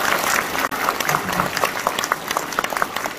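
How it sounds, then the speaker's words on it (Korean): Applause from the crowd at a Democratic Party talk concert in Busan, a steady wash of many hands clapping with a brief dip early on, moderately loud and continuous, with faint voices underneath. "여러분들 박수 한번 주시기 바랍니다"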